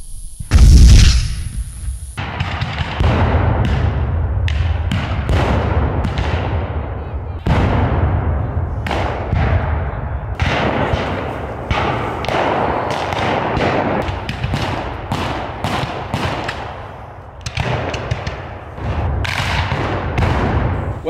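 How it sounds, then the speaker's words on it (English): Heavy artillery cannons firing on a Civil War battlefield, a long series of loud booming blasts at irregular intervals, each with a rolling decay, with voices at times between shots. "Did you hear that? Those big guns sure are powerful."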